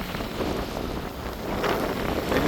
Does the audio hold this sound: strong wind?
yes